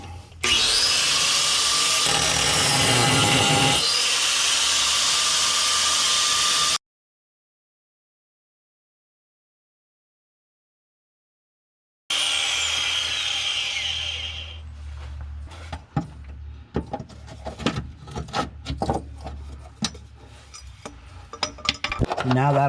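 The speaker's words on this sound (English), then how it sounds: "I'm just going to take my cutting wheel and a grinder and I'm just going to make 4 cuts and make it a little bit bigger" An angle grinder with a cutting wheel slices into the body metal of a 2001 Honda CR-V for a tow hitch, a loud harsh whine that cuts off into silence, then returns with choppy bursts and clanks.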